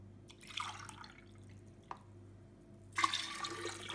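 Water poured from a glass into a large bowl while making a concentrated lemon juice, a short splashing pour followed by a single drip and then a louder, fuller stream, close and with no talking.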